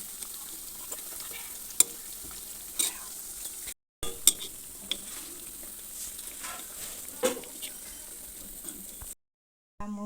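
Coconut biscuits fry in refined oil with a faint, steady sizzle, punctuated by occasional clinks and scrapes of stirring; quiet and close, with brief silent gaps.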